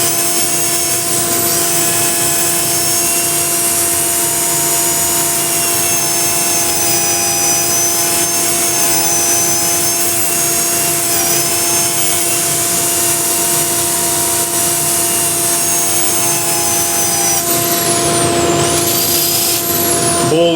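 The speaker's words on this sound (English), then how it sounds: "So we'll turn on the lathe now and we'll smooth everything out with 120 grit." A wood lathe runs steadily while a turned piece is sanded with 120 grit sandpaper, a loud continuous motor whine with steady tones and a constant abrasive hiss, briefly changing pitch near the end.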